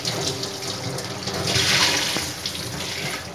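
Bitter gourds are washed under running water in a home kitchen, a steady close rush and splash of water that swells in the middle and then eases.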